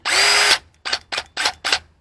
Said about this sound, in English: Hammer drill, proper name for it.